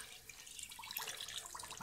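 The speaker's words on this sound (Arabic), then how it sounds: "نصيت الماء،" Water poured from a pot into two kilograms of sugar for a mint syrup, a soft, steady splashing trickle that runs throughout at low level with no talking.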